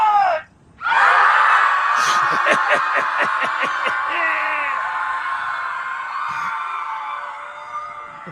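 A crowd of people at a scream club lets out one long, loud group scream together. It starts after a brief silence and sustains for several seconds, with rhythmic pulsing shouts, before slowly fading.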